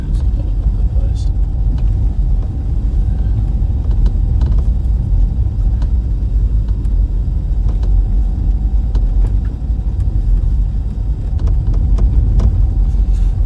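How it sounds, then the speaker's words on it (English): A Jeep engine running rough while driving through a historic winter storm gives a steady, loud low rumble with road drone that holds without a break throughout. "the Jeep engine does not sound great"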